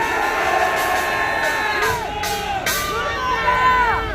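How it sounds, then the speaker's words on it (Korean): A large outdoor rally crowd of Marine Corps veterans roars and shouts in anger, with many voices yelling together and sustained cries rising and falling, loud and dense throughout. "분노하면 분노한다고 소리 한번 질러주십시오."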